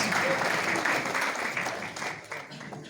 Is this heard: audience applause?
yes